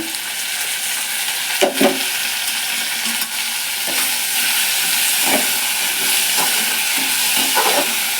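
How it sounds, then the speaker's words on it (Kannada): Chopped ridge gourd with turmeric sizzles in a hot pan in a North Karnataka-style kitchen, a steady hiss broken by occasional clinks and scrapes of a stirring spoon; no one talks. "ಚೆನ್ನಾಗಿ ಬಾಡಿಸ್ಬೇಕು"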